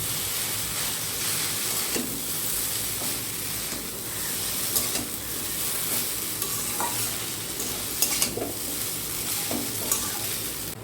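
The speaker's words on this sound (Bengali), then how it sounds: "এবার আমি চাউমিনটাকে হালকা একটু ভেজে নেব।" Chowmein noodles fry and sizzle in a pan while being stirred. The hiss is continuous and close, with scraping stirs scattered throughout.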